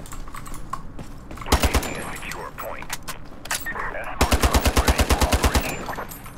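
Automatic weapon fire in the shooter game Ironsight comes as two loud rapid bursts, a short one and then a longer steady string, between quieter game sounds.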